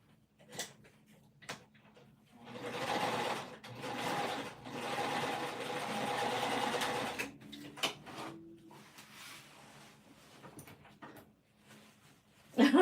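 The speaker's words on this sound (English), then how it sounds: "start a little bit further down, backstitch over my old stitching" A home sewing machine backstitches over earlier stitching on a winter crescent bag, running in a long, even burst of about five seconds, with scattered clicks and handling noises before and after.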